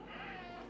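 A hungry kitten gives a single short meow, a brief tonal cry set against quiet room noise.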